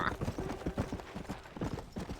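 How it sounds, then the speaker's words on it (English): Rapid hoofbeats of a zombie horse in Red Dead Redemption: Undead Nightmare, a close, steady galloping clop that repeats evenly for a couple of seconds with no talking over it. "Zombie horse!"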